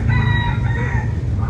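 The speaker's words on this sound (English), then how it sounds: "thank you, Rooster." A rooster crows loud and close in one long, wavering cock-a-doodle-doo that fills the whole moment, over a steady low background hum.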